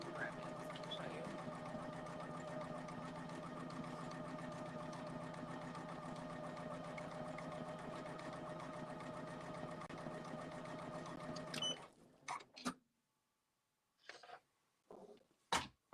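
A Poolin EOC06 single-needle embroidery machine runs with a steady, rapid mechanical hum and needle chatter, then stops abruptly, leaving a few brief clicks and knocks.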